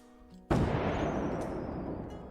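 A firework sound effect built for a game in development bursts loudly after a brief quiet lead-in, then trails off into a long, fading crackling decay.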